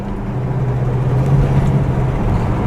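A 1969 Oldsmobile 442 with an automatic transmission cruising along, its engine a steady low hum under broadband road and wind rumble, loud and continuous from inside the car.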